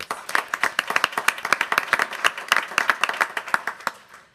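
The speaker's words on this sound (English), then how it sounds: "So let's give them a round of applause." A small audience at a school board meeting claps in a quick, sparse burst of distinct hand claps that tapers off after about four seconds.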